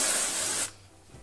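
A single steady hiss of Nivea Black and White Invisible deodorant spraying from an aerosol can, close and fairly loud, lasting about half a second before cutting off abruptly into quiet.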